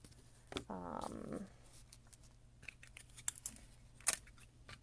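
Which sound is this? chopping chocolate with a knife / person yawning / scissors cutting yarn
scissors cutting yarn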